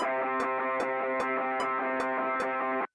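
Bass run through a speakerphone-style filter, thin and band-limited, outlining the third of each chord in a steady sustained line with a regular ticking pulse, loud and alone until an abrupt stop.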